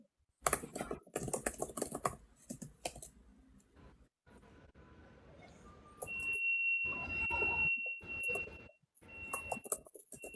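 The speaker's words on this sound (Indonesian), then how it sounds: "Masih ngetik, guys." Computer keyboard typing in rapid clicky bursts, close and fairly quiet, with pauses and a steady electronic tone in the middle stretch; no talk.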